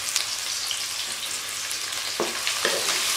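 Onions frying in hot oil for aloo keema produce a dense, constant crackling sizzle close up, with a couple of brief stirring scrapes near the end and no talking.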